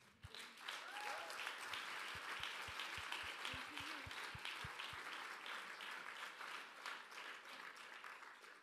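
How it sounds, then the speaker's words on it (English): An audience of conference attendees claps steadily for a panel in a large hall, a dense, even round of applause that lasts about eight seconds and fades slightly toward the end. "A big last final applause for this wonderful and very wise panelists."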